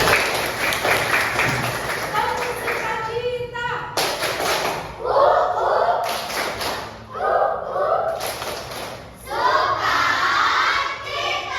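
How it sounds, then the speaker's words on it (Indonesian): Children applauding in a classroom during an artificial intelligence lesson, bursts of clapping mixed with excited shouting and chatter, rising and falling in waves with thumps among them. "Tepuk tangan untuk kalian sekali lagi"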